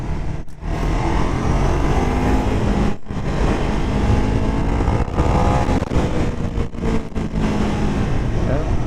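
A Ducati 999 twin-cylinder motorcycle pulls hard under acceleration, its engine roaring loud and continuous with wind rush, briefly dipping at gear changes, while a rider talks over it.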